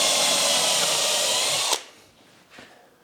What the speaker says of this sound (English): It's just a case of 4 pilot holes and screw the top or our table to the brace pieces.